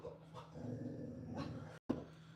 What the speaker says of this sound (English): These damn dogs.